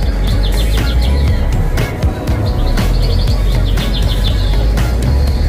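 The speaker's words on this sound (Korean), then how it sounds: "여러분 이 새소리 들리십니까?" Several birds chirp in quick repeated trills inside the Starfield Library at COEX Mall in Seoul, over a steady low rumble of background noise, continuing throughout.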